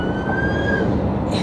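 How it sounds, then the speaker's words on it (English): A siren wails steadily nearby, heard from inside a car, its rising and falling tone cutting over a constant low rumble of road noise. "literally every time I'm in the car, there is a siren."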